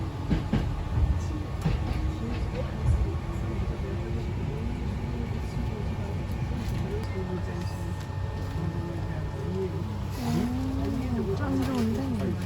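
A train on a Kyoto railway line rumbles steadily from inside the carriage, with people talking over the low running noise.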